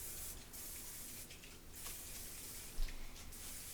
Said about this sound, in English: So I'm going to go ahead and just spray some of this